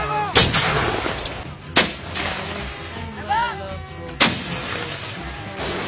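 Military artillery fire from RM-70 Grad multiple rocket launchers and 105 mm howitzers during a large army exercise: three sharp loud blasts spaced a couple of seconds apart, each followed by a rolling rumble, with a faint voice between them.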